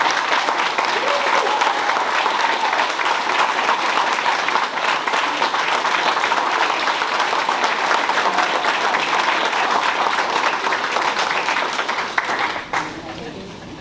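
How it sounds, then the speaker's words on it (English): Sustained applause from a large crowd at an Army retirement ceremony at Rock Island Arsenal, honoring retiring soldiers; dense, steady clapping lasting nearly fourteen seconds before tapering off at the end. "join me in a heartfelt round of applause for these extraordinary and noble American soldiers of the world"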